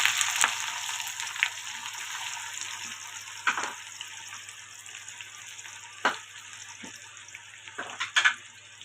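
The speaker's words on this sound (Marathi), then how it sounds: "आता तेलात टाकायचे थोडीशी जिरे कांदा" Cumin and onion frying in hot oil at the start of a vegetable pulao: a steady soft sizzle runs throughout, with a few sharper pops and utensil clinks scattered across it.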